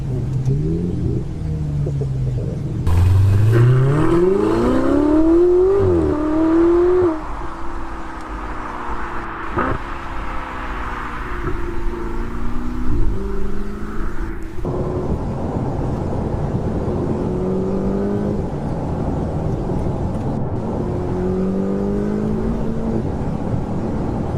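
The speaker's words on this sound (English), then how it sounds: "I'm falling in love with the turbo sound" A Ferrari 488 GTB with a turbocharged engine accelerating hard, its loud rising drone climbing through successive gear changes, then easing into a steadier, quieter cruise with cabin rumble.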